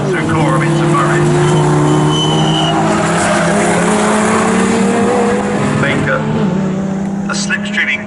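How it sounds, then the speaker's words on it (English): Lotus Elise race cars sweep through the Coram and Murray's corners at Snetterton circuit, their engines droning loudly and steadily with shifting pitch over several seconds while a commentator talks over them. "closer to John Master this time as they come through Coram into Murray's"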